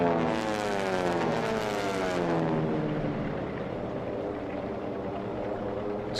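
T6 race airplanes rounding the pylons at the STIHL National Championship Air Races, a loud droning radial-engine roar that sweeps down in pitch as they pass close, then continues as a steady fading hum.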